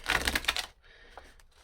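Tarot cards riffle and slap in a quick burst of shuffling, close and crisp, fading after under a second into quieter scattered card handling with soft taps.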